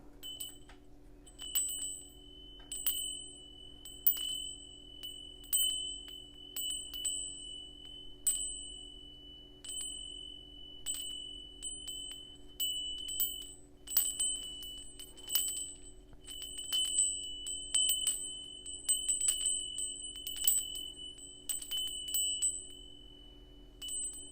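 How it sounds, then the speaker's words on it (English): A small bell rung to cleanse energy rings out repeatedly, bright sharp strikes with clear sustained tones, spaced irregularly over a faint low hum in a quiet room. "I'm going to cleanse the energy with the bell."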